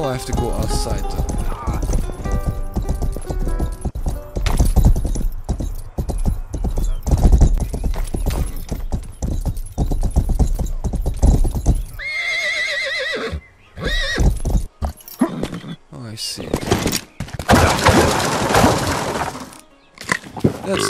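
Horse hooves and neighing in the medieval video game Rustler (Grand Theft Horse), with busy clip-clopping, a whinny and breaking and crashing sounds, and a person talking over the game audio throughout.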